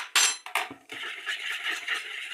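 A few clinking knocks of a utensil against a bowl, then a steady soft scraping swirl of mixing kefir batter with baking soda for khachapuri, continuing at close range.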